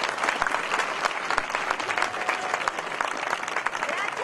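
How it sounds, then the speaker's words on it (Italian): Audience applause at a Movimento 5 Stelle political rally in Turin, a dense, continuous wash of many hands clapping at steady volume, with crowd noise and some voices blended underneath. "vi pregherei di fare un applauso a tutti quelli che sono qua sotto"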